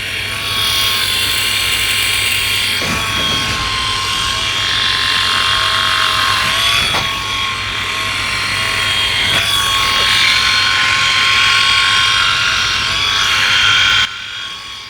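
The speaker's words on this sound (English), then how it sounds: "we're getting a good shave now" A Philips i9000 electric shaver hums steadily while shaving, its buzzing motor tone rising and dipping slightly as the head moves across the skin, close and continuous, then stops abruptly near the end.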